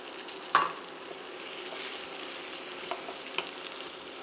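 Onions and carrots browning in a pot for boeuf bourguignon, a steady close sizzle of frying with a sharp stirring clatter near the start and occasional soft scrapes.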